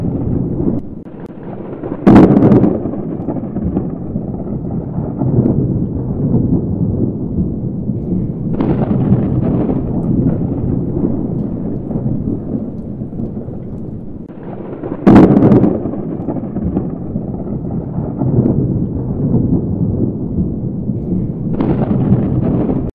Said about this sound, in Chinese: 天空电闪雷鸣的，闪电一下子铺满天空